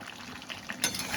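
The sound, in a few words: chicken kasha being stirred with a spatula and fried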